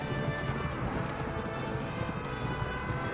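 Dense thunder of many horses galloping at once, the cavalry charge of the Rohirrim from The Lord of the Rings: The Return of the King, a loud continuous drumming of hooves with battle din.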